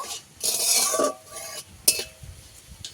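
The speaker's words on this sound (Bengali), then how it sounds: "দুটো তেজপাতা ফোড়নটাকে ভালো করে ভেজে নেব" Black cumin seeds and two bay leaves fry in hot oil as a tempering for a vegetarian spinach dish. Short hissing bursts of sizzle come with a few metal clinks and stirring scrapes, nearby and without speech.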